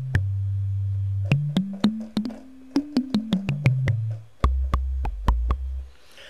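A synthesizer preset is played on a keyboard in Ableton Live, with a bass line of sustained notes stepping up and then back down, each note started by a crisp click. The tone is clean and close, ending on a held low note.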